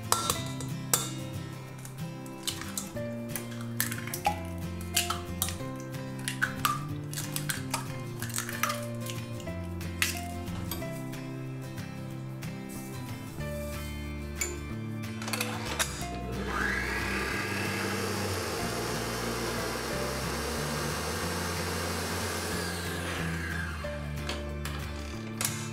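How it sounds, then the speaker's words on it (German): Dishes and utensils clink before an electric mixer starts up, beating eggs and sugar until creamy for a lemon cake, with a steady whirring drone that lasts about ten seconds and stays close. "Als erstes werden Eier und Zucker schön cremig aufgeschlagen."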